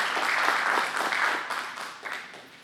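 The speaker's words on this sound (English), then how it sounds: "So give me a round of applause" An audience at a celebration gives a round of applause, dense clapping that starts strong, then gradually thins and fades toward the end.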